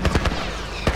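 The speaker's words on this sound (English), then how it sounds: "That's a turret." Turret gunfire in The Last of Us, a fast run of loud, close automatic shots, with a short burst at the start and another near the end.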